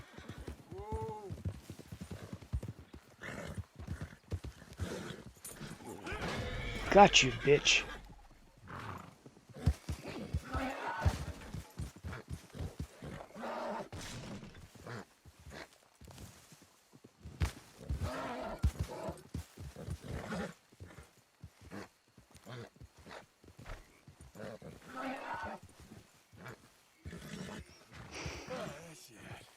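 A Missouri Fox Trotter horse in a video game clops along with rhythmic hoofbeats and lets out a whinny near the start, while someone talks over most of the sound.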